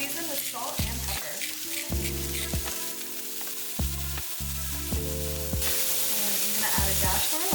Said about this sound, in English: we are going to saute these while the onions turn translucent